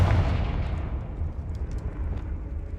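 A booming blast from the Confringo spell in Hogwarts Legacy, a heavy rumbling explosion that starts loud and rolls on, gradually fading over a few seconds with no talk.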